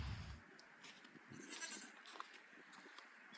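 Goats and sheep bleat faintly on a farm during spring pruning work, with short calls scattered over a steady outdoor background.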